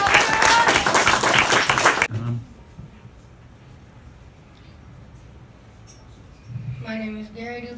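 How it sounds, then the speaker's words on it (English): A burst of applause from a small group fills the first two seconds, then cuts off into quiet room tone before someone starts speaking. "give Michael a round of applause"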